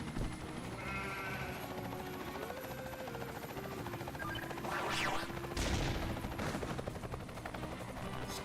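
Sheep bleating in the Ty 2 video game, a few faint bleats amid quiet game ambience, with sharp bursts of gunfire-like noise in the middle.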